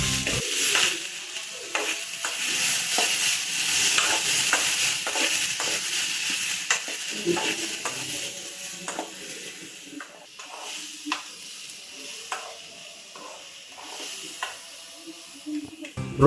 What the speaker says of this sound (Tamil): இந்த நேரத்தில் நம்ம கட் பண்ணி வச்சக்கூடிய தக்காளியை இதோட சேர்த்துக்க வேண்டியதான். எல்லாத்தையும் நல்லா வதக்கி விடுவோம்.